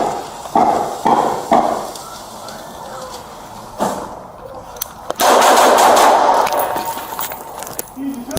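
Gunfire during a police shootout, caught by a bodycam: several sharp, loud bursts early on, then a dense, sustained volley of rapid shots later, with shouting mixed in.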